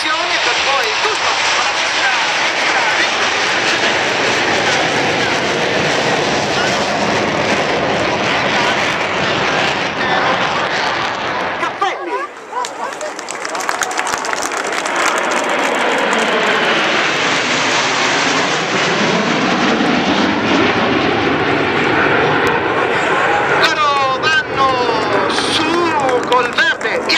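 Frecce Tricolori aerobatic jets taking off at a season-opening air show, a loud continuous roar of jet engines that swells and shifts in pitch as a section departs, with commentary heard over it.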